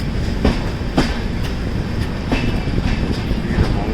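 An Indian train on the Kerala to Mumbai route rumbles steadily along a mountain loop line near a tunnel, with periodic clacks from wheels crossing rail joints over a constant low roar.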